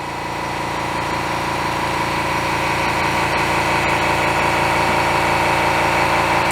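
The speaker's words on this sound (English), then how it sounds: "This is with the 1/16 inch end mill, and it's roughing out the material that was left behind by the larger cutter" A CNC mill with a 30,000 RPM spindle and a 1/16 inch end mill roughing out a small 4WD emblem: a steady high-pitched spindle whine with fine rhythmic cutting chatter, loud and unbroken throughout.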